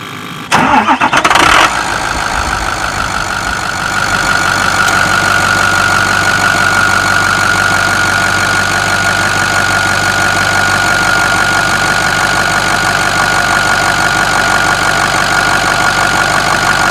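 A Ford F-350 pickup truck engine cranks and catches after an oil change, revs briefly, then settles into a loud, steady idle that runs on without pause.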